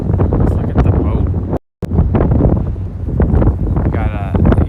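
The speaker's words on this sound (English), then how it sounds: "Oh, it's so windy though." Strong wind buffeting the microphone by the East River in Brooklyn, loud continuous rumbling gusts with a brief dropout midway, while a person talks over it.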